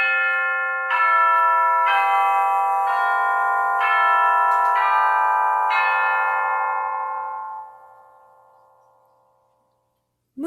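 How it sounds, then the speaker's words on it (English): Orchestral chimes played in a descending run of six tubular bell strikes, each a clear resonant metallic tone about a second apart, ringing together and slowly decaying into silence. "Now let's listen to the chimes."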